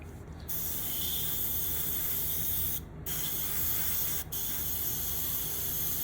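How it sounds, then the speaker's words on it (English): An airbrush sprays AK camouflage green paint onto a swampy miniature base, a close, steady hiss broken by short pauses as the trigger is released. "next we're going to go in with the AK camouflage green in the airbrush"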